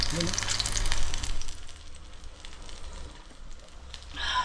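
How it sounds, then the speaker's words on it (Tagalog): Pompano fish frying in a pan makes a continuous hissing sizzle that swells and eases slightly, heard close with no talking. "habang piniprito natin to"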